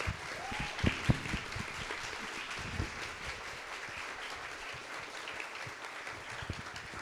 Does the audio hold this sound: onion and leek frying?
no